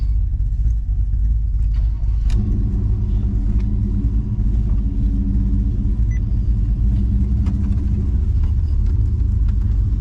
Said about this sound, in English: so I'm gonna crank the car back up